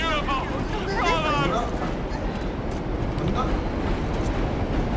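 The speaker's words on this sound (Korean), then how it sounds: "기차 왔다." A subway train rolls into a New York tunnel station in World War Z, a loud steady rumbling and clattering with squealing tones, mixed with game noise and people talking.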